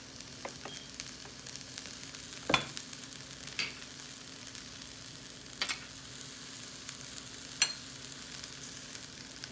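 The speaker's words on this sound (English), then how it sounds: "So we will add couple tablespoon of oil." Couple of tablespoons of oil heating in a pan for an okra and yogurt curry, a faint steady sizzle and hiss with a few sharp, isolated clicks and taps, no talking.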